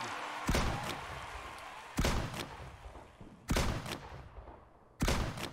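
Four loud, sharp gunshots from the mobile shooter game FRAG: Pro Shooter, spaced about a second and a half apart, each one dying away into a softer tail.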